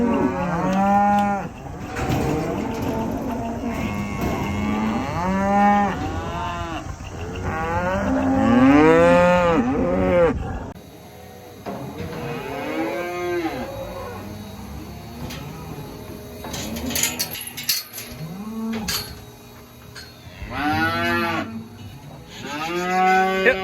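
Cattle being worked in a pen bellow loudly and repeatedly, long overlapping moos from several animals close by, with brief quieter gaps between calls.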